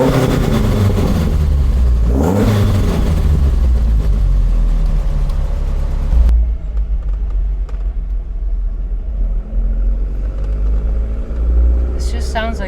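A 1750 Alfa Romeo GTV engine breathing through Weber carburetors revs loudly, with a deep, rough roar that swells, then cuts to a lower idle rumble.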